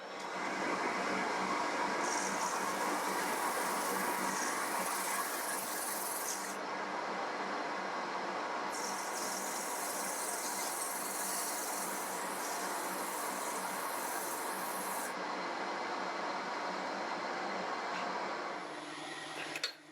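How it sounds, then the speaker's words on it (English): Continuous airy hiss of abranet sanding a wooden sphere box turned on a lathe, held against a round pipe fitting, with a steady motor drone and the high scratchy band cutting in and out as contact comes and goes. "I'm just going to use that with a bit of abranet across the face."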